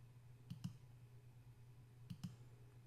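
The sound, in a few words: computer mouse clicking on right arrow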